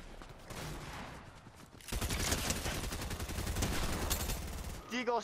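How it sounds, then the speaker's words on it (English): Rapid gunfire fills a Fortnite battle, with dense bursts and Desert Eagle pistol shots running loud and continuous for several seconds after a quieter opening, while people talk over the action. "Deagle shot."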